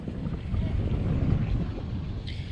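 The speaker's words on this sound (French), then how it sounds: "regarde le kata comme il force sur le moteur quand même" Catamaran motor working hard against the current, a steady low rumble with wind buffeting the microphone and water noise, continuous and fairly close throughout.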